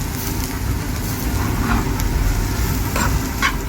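Green and red bell peppers cooking in a pan for chicken noodles, a steady broad sizzle with occasional stirring scrapes, continuous and fairly loud with a low rumbling background.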